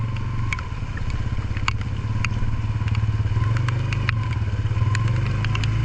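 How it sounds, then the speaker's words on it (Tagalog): A motorcycle engine drones steadily close by, with scattered crackles and taps of rain over the low rumble during a ride in the rain. "Masarap magmotor pag ganito din na maulan."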